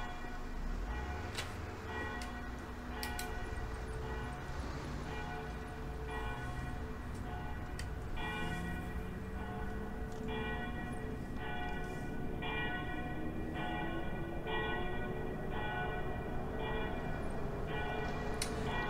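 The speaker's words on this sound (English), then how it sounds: "Yeah, the church bells are getting quite annoying." Church bells ring repeatedly at a steady pace in OMSI 2, a bus simulator game, on a London route. The strikes are soft and somewhat distant over faint traffic rumble.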